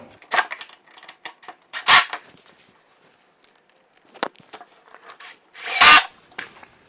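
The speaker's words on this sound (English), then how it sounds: "Now we can attach the 1x8 that will sit against the wall to our shelf, and we're doing that with the pocket screws as well." Power drill driving pocket screws into a 1x8 board for a sports equipment storage shelf: short spaced whirring bursts, two louder longer runs among quieter brief zips, close up with no talk.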